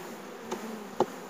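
Honeybees buzz softly around a hive frame being shaken, a continuous low hum with two brief louder bursts.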